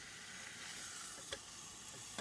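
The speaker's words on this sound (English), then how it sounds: "now this appears to be sizzling good enough" Steak sizzles on a cooking surface inside a vehicle, making a soft, continuous frying hiss with a couple of faint clicks or taps, and no voices.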